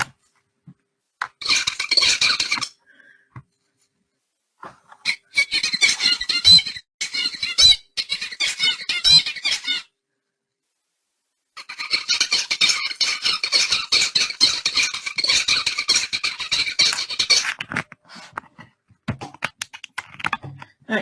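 Recorded animal vocalization played back in a lecture on brains, harsh squealing, squawking bursts in repeating patterns, loud and alone with pauses between bursts.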